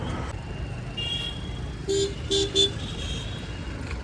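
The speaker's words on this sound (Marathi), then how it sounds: "गाड्या येतात अजून" Car horn honking three times in short beeps over a dull background hum of engines as vehicles pull into a parking lot.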